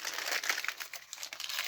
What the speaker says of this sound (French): on a notre sachet de vis que je vais pas ouvrir